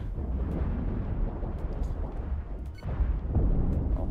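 Ship cannons fire in the Cosmoteer space combat game, a run of low, rumbling booms and blasts that rise and fall in a busy battle mix, with no speech over them.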